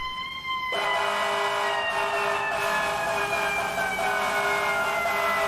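Fire truck horn on the Tiller Ladder 75 apparatus, a loud sustained multi-tone blare that starts abruptly and holds steady at close range with a siren-like wail running along with it.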